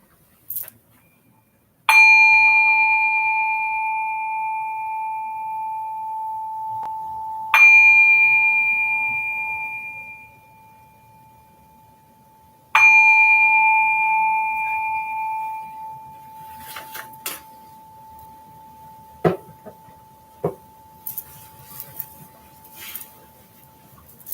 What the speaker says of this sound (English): So as the bell fades, take a few deep breaths.